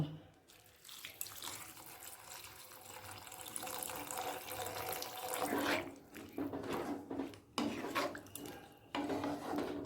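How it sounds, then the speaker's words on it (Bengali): Water pours from a tap into a pan of spiced potatoes coated in mustard oil, a steady splashing fill with clinks of pots and utensils, close and continuous. "এবার দিয়ে দেব জল"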